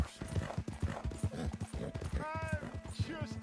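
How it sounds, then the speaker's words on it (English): Rapid, rhythmic hoofbeats of a horse clip-clopping in Red Dead Redemption 2, fairly quiet, with a short vocal sound partway through. "Ain't you a good horse?"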